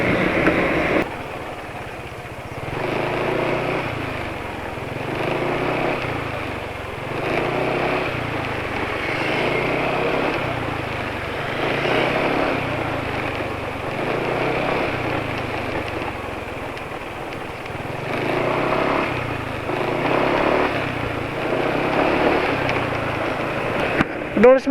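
A Yamaha motorcycle engine running on palm-oil-based engine oil, a steady mid-loud drone with a pulsing low rhythm throughout, set against a busy, noisy background.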